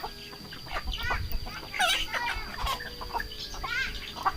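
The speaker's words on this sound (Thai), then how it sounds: "เบิ่งเป็ดเบิ่งไก่กินทำ" Chickens cluck and chatter up close in a steady stream of short calls while they feed, with soft rustling underneath and no one speaking.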